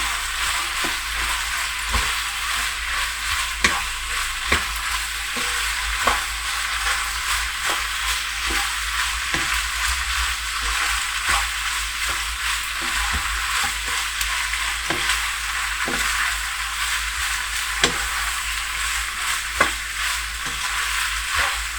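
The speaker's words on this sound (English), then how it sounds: "Then add boiled pasta and make sure to mix it well." Boiled pasta stirred into a spicy chicken sauce in a hot pan, loud continuous sizzling with regular scraping strokes of the spoon throughout, close and without talk.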